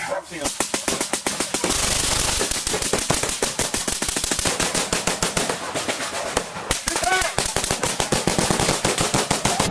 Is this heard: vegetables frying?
no